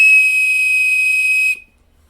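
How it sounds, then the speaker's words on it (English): A small handmade wooden whistle, turned on a lathe with a skew chisel, blown in one loud, steady, piercing tone that holds for about a second and a half, then cuts off abruptly into silence. "Some neat little wooden whistles."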